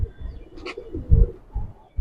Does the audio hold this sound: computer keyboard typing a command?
no